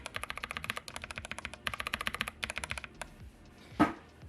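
Newly built custom mechanical keyboard with lubed switches, typed on in quick bursts of crisp, close keystrokes with short pauses between runs, ending with one louder knock.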